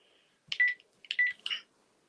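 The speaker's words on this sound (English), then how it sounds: "The 6521 has the same Ringtone number 1 as this." Ringtone number 1 on an old 6521-type mobile handset: three short bursts of bright electronic chirps, each with a sustained tone, played close and alone in a quiet room.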